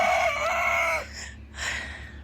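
A young rooster crows close by, a loud drawn-out call that breaks off, followed by a shorter second burst over a faint steady background hum.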